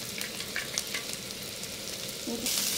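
Thin slices of garlic sizzle and crackle in a pan over medium heat, a steady close-up frying hiss with light scraping as they are stirred. The sizzle grows a little louder near the end.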